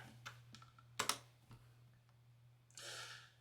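Keys on a computer keyboard are tapped in a short burst of distinct clicks, a few louder strokes and a rattling run at the end, close by over a faint steady hum.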